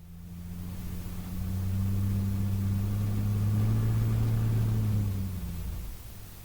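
A light aircraft's piston engine taxiing toward its pre-flight run-up gives a steady, close, low droning hum that swells slightly midway and then eases, with no talking.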